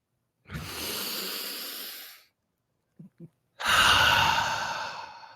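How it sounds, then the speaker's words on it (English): Deep breaths from a group of people on a podcast: a long drawn-out inhale, a pause with two small sounds, then a loud, heavy exhale close to the microphone. "Let's take another deep breath."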